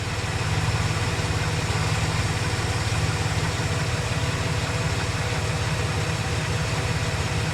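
A 2010 Chevrolet Silverado 4x4 with the 4.3L engine idles steadily after an oil change, a loud, even mid-pitched rumble with constant vibration and no voices over it.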